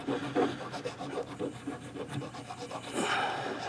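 A coarse file rasps steadily over the inside edge of a carved wax ring, bevelling it with continuous rhythmic strokes close by and moderately loud, no talk.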